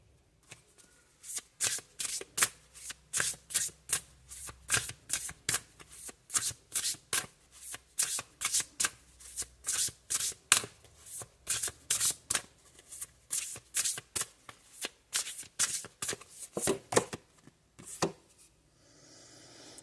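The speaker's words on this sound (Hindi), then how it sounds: "तो अगर आपको कार्ड शफलिंग पसंद नहीं है गाइस" Tarot cards shuffled by hand, a long run of quick crisp riffling bursts in a steady rhythm, close and fairly loud, with no talking.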